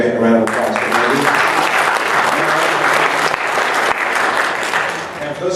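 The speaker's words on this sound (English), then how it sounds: "Give it a round of applause for Andy." An audience at a round-table Q&A gives a loud, sustained burst of applause that carries on for several seconds and then tapers off, with a voice faintly underneath.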